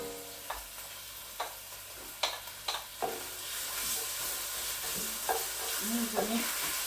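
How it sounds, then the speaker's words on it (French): Onions frying in a little oil are stirred with a few sharp scraping clacks, then a steady close sizzle carries on beneath more occasional stirring knocks. "Cette fois-ci, je vais tout mélanger."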